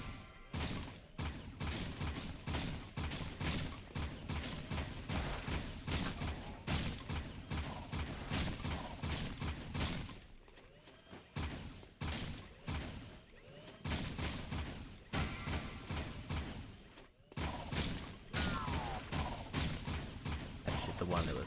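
Rapid gunfire in the video game Jak 2 comes in dense, repeated bursts of loud shots, nearly continuous with a few brief pauses, over a low rumbling game soundtrack.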